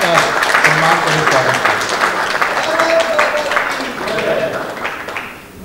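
Audience applause honouring Olympic boxer Vijender Singh at a ceremony: a crowd claps steadily, fairly loud and close, with some voices mixed in, fading toward the end.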